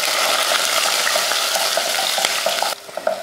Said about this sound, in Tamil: இப்போ வதக்கிடலாம்.